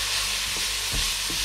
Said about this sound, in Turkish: Bakın bayağı kaynıyor.